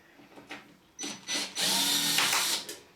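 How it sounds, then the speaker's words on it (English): An electric screwdriver backs out self-tapping screws from a tumble dryer lid, giving a couple of short whirring bursts followed by a longer, close, steady high-pitched whine. "It's obviously a lot quicker if you use an electric screwdriver like this"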